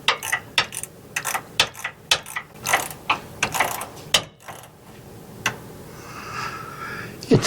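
Ratchet working a fine-thread nut on a motorhome steering stabilizer: bursts of quick metallic clicking separated by short pauses, then a softer rattle of tools, close and fairly loud.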